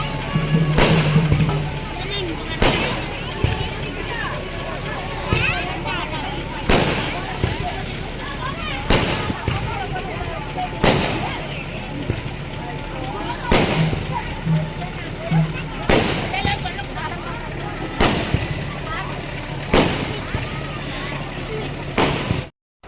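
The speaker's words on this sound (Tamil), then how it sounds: "வீட்டிலேருந்து பார்க்கும்போதே நல்லா பட்டாசுலாம் வெடிக்கும்" Firecrackers bursting at a temple festival, sharp loud cracks repeating every second or two across the stretch amid a busy, noisy crowd with voices underneath.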